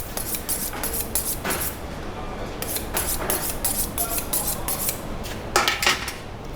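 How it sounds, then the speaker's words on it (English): Kitchen knife being sharpened during vegetable prep, a series of quick scraping metallic strokes in irregular bursts, close and fairly loud, with no talking. "We sharpen the knife again."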